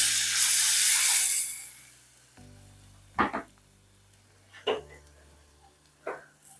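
Tamarind water poured into hot masala and oil for a salmon fish curry, a loud hissing burst of steam and sizzle that fades within two seconds, followed by a few faint clinks and scrapes.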